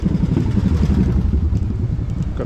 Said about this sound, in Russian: Какой-то военный мотоцикл.